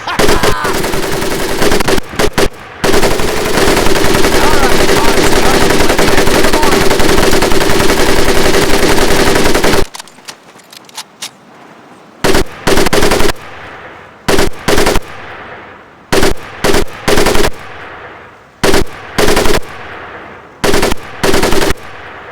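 Machine gun fire in Medal of Honor Pacific Assault, first a long sustained loud burst, then a string of shorter rapid bursts separated by brief pauses.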